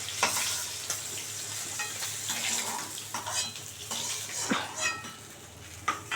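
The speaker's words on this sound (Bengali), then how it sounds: "দেখো, মাথাটাও ভালো করে কড়া করে ভাজতে হবে, লেজাটাও কড়া করে ভাজতে হবে" Head and tail pieces of a sea fish (bok) crisp in hot oil in a pan with a steady soft sizzle, broken by occasional clinks of a spatula against the metal.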